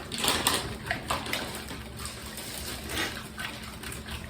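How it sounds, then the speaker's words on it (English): Pumpkin banana muffin batter is whisked by hand in a bowl, giving a fairly quiet, wet slapping and sloshing with a loose rhythmic stir that swells and fades several times. "And then we're just going to whisk all this together."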